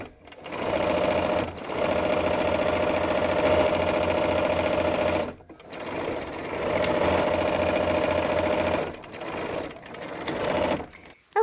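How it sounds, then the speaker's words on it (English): Sewing machine stitching quilt rows, a loud, fast, steady mechanical chatter running in two long close bursts with a short pause between them and a brief restart at the end; no talk. "All right, let's go ahead and sew."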